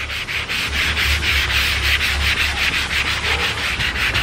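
A car body is sanded by hand with 80-grit sandpaper, a loud, rhythmic back-and-forth scratching rub repeating in quick regular strokes with no talk.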